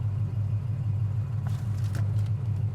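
A 1972 Chevelle Malibu engine idling at a stop sign, a steady low rumbling idle heard from inside the car, smooth and even, with a few faint clicks near the end.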